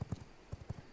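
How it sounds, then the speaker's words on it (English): Horse hooves clip-clop in a quick, uneven rhythm in the video game V Rising, soft and low, as if trotting a short distance away. "I see a horse here"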